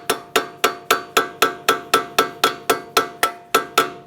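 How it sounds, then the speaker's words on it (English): Flat blade screwdriver struck repeatedly into a rusted front wheel bearing hub on a 2012-2018 Nissan Altima, a steady run of about fifteen ringing metallic taps at an even rhythm, close and alone. "With a flat blade screwdriver, I'm going to try and get right on the base of it, tap it in."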